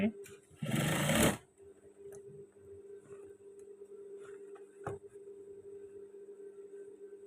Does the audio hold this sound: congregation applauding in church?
no